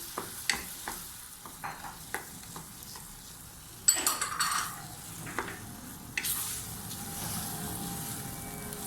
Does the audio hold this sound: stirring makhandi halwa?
yes